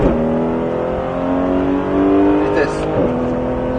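A Porsche GT3 accelerating on a race track at the Pôle Mécanique circuit in Alès. The engine gives a loud, steady, rising drone with a brief dip as it shifts up, and a voice talks over it.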